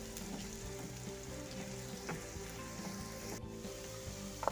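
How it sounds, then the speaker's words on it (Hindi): Finely chopped onion fries in a pan for mutton samosa filling, giving a steady, quiet sizzle with light crackle throughout and no voices. "ये हमने अपनी समोसियों के लिए थोड़ा सा प्याज ब्राउन होने के लिए रखा है, बारीक बारीक जो हमने चॉप किया था।"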